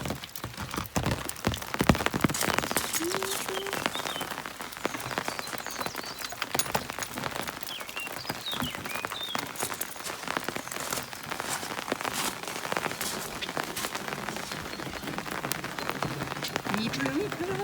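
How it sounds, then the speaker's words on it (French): Steady rain patters densely on surfaces outdoors, a continuous close hiss with scattered louder drops, while people talk faintly now and then underneath. "Il pleut."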